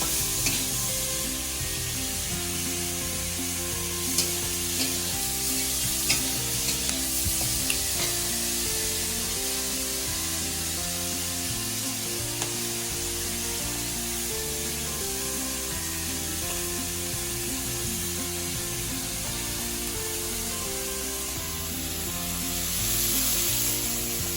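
Vegetable stalks for a Bengali chorchori are stirred and fried together in a hot pan. A constant sizzle runs under occasional scraping stirs, and no one speaks.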